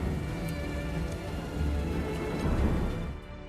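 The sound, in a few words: heavy rain with thunder at night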